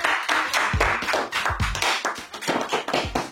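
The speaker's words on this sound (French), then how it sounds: "On applaudit s'il vous plaît, monsieur GBM, Hardy dans la maison." A burst of clapping hands from a small crowd at an indoor timed cooking contest, sharp irregular claps filling the room for a few seconds with no talk over them.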